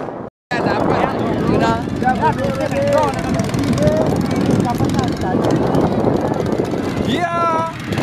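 Five racing boats with 92 and 94 piston-class engines roar loudly together at a boat race, a steady, close, droning engine noise with wind buffeting after a brief gap at the start.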